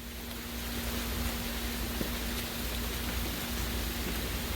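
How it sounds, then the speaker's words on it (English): Rain falls steadily outdoors during a tropical storm in the Gulf of Mexico region, a dense even hiss that stays constant, with a low hum underneath and no voices. "So the rain's picked up a little bit"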